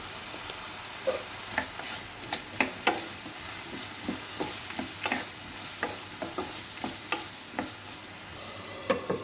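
Potatoes frying in a pan with curry leaves and turmeric, stirred repeatedly, giving a steady soft sizzle broken by regular scraping strokes of the spoon about every half second, close and moderately loud, with no talking.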